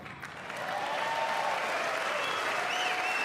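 Bipartisan applause fills the chamber at the State of the Union, a broad, dense wash of clapping that swells in the first half second and then holds steady and full.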